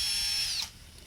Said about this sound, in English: We have an electric drill